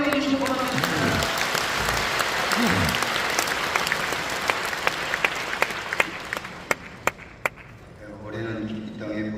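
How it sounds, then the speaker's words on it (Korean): Audience applause welcoming a speaker at a Korean Protestant concert marking 140 years of missionary work, a full crowd clapping loudly with sharp individual claps standing out as it thins, a voice speaking near the start and end. "박수로 환영해 주시기 바랍니다"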